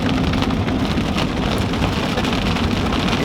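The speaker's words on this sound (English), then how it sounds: "It's raining." Steady, dense rain patters continuously, close and fairly loud, with a constant hiss and no voices, while a couple head out on a long drive to look at a motorcycle.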